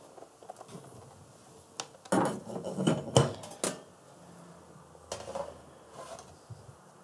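A cake in a tart tin is flipped over, the tin lifted off and plates handled, making scattered clinks and scrapes, with a cluster of louder clatters in the middle and a few lighter knocks afterward.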